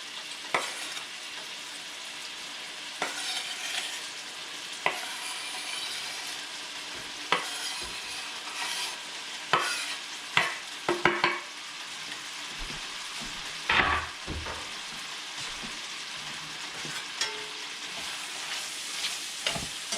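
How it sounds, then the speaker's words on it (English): Onion sizzling in rendered bacon fat in a cast iron skillet for baked beans, with a steady soft frying hiss and intermittent scrapes and taps of stirring, close but fairly quiet. "So now I'm just going to start adding the onion"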